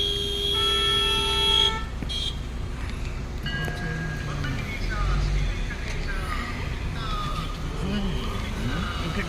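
Busy road traffic near a temple complex in Telangana, with a long car horn blast near the start and further honks over a steady engine rumble, with voices talking throughout.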